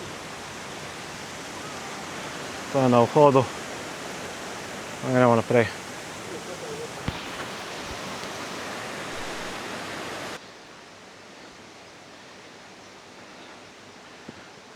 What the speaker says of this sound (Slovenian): A tako na začetku je tlele ta mali tolmun z majhnim slapom.